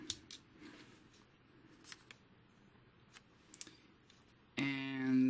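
Small plastic parts on a Transformers MP-24 Star Saber figure give a few light, quiet clicks and taps while its feet are folded down, with a brief louder scraping burst at the end.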